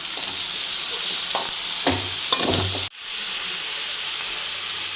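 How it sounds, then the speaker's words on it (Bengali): Chicken chow mein is stirred in a hot pan, giving a steady loud sizzle and hiss with scraping strokes of the utensil, then a sharp cut-off before the sizzling resumes alone. "এবার সব কিছু একসাথে আমি একটু মিশিয়ে নিচ্ছি।"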